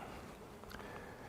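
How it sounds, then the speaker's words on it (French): Honeybees circle around an open beehive, a faint, steady buzzing drone of several insects close by with a few brief louder passes. "il y a pas mal d'abeilles qui tournent"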